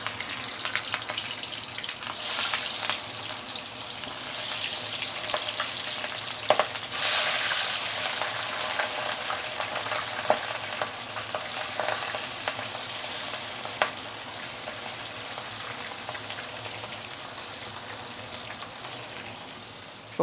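Fish for a braised fish head dish goes into oil heated to smoking point, a dense, continuous crackling sizzle like rain, steady and fairly close, with occasional sharper pops.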